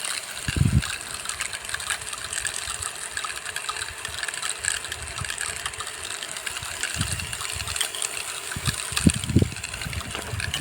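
A steady hum of a running irrigation pump mixed with continuous hissing, splashing water from sprinklers in a cumin field, with a few low thumps scattered throughout.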